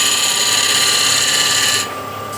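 Shear scraper scraping a spinning wooden workpiece on a lathe, a loud, steady hissing scrape that cuts off abruptly near the end, leaving a quieter hum.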